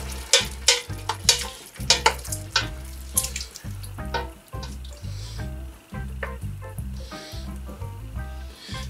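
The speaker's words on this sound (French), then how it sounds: "On va déglacer avec un peu d'eau." Water poured into a hot pan to deglaze browned beef for an oriental vegetable stew, with a burst of sizzling and repeated utensil scrapes and taps against the pan, close and fairly loud.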